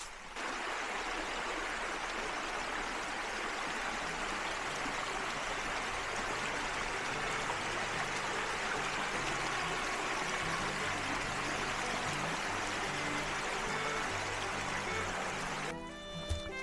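Creek water rushes steadily just below a waterfall on a wooded mountain trail, a constant full hiss of flowing water that holds even throughout, with a brief shift near the very end.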